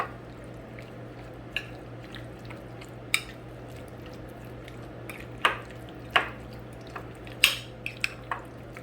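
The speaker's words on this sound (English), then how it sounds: "And now we are going to mix everything." Chicken 65 marinade being mixed with a spoonful of oil by hand: soft, wet squelching and sporadic sharp clicks and taps scattered over several seconds, close up, with a low steady hum underneath.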